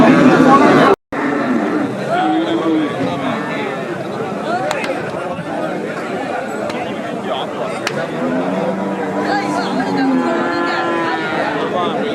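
Cattle moo repeatedly at the Pavoorchatram cattle market, several animals calling near and far over a busy background of chatter and crowd noise.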